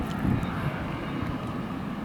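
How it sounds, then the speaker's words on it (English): A United Express plane takes off near a road in El Paso, Texas, a steady low engine roar heard from a distance, broad and continuous. "we got a United Express plane taking off"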